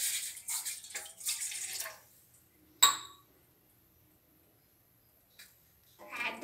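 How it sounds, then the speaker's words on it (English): Water is poured into a pot for boiling gongura leaves in a home kitchen for Andhra-style gongura chutney, a short rushing splash followed by a sharp metallic clink, then near silence. "So first pour the water."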